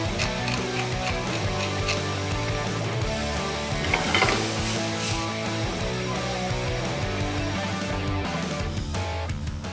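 Steady ratcheting crunch of a pepper grinder cracking peppercorns over food for a roti quesadilla or macaroni, repeated rhythmic clicks continuing for several seconds with no talking.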